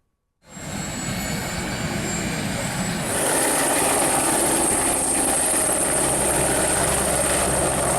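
A helicopter giving joyrides at a festival in Pollachi runs loud and close, its rotor and engine roar beginning abruptly and building into a dense continuous drone that swells higher partway through.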